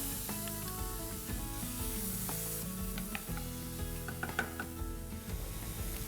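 Two onions fry in hot oil with bay leaf, hing and cinnamon stick, giving a loud, close, continuous sizzle with occasional sharper pops and crackles and no talking.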